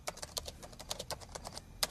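Rapid, uneven typing on a computer keyboard, a quick run of sharp clicks at close range with no one speaking.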